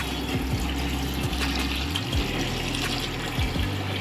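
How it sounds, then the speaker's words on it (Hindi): Water pours and splashes steadily into a Hygger smart aquarium tank as it is filled, with a few low droning tones sliding beneath the constant rush. "तो चलिए इसमें पानी भरते हैं"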